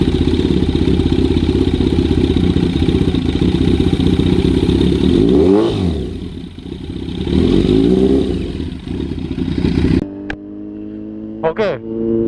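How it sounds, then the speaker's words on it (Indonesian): A 2019 Kawasaki Z900 motorcycle idles with a steady, throbbing engine note, gets a couple of throttle blips midway, then cuts out, followed by a few short rev sounds near the end. Someone talks over it. "sekarang kita cek sound dulu motornya"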